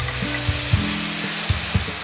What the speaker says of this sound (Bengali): হয়ে গেছে আমার আলুটা ভাজা